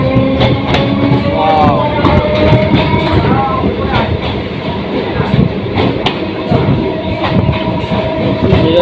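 Kolkata Circular Railway local train running on the Dum Dum to Majherhat line, with a steady loud rumble, rattling wheels and clacking joints, and squeals and brief bursts of voices inside the carriage.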